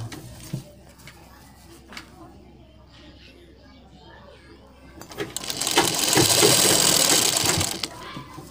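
A sewing machine runs a long continuous stitch along half of a garment collar on a neck design, a steady whirring burst that swells loudly after an earlier stretch of quiet handling and small knocks.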